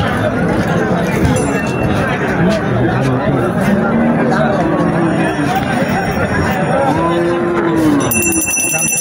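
At a busy cattle market at Mirshanni in Cumilla, cattle, including Indian bullocks, moo repeatedly amid dense crowd babble and close talking, with bells ringing faintly near the end.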